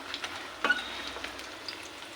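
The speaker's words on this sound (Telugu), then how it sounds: "ఇదిగోండి ఇటు కూడా ఫ్రై చేసుకోవాలి చక్కగా" Rice flour vadas fry in hot oil on a low flame, giving a soft, steady sizzle and crackle with one brief louder spatter as a vada is turned, close and quiet.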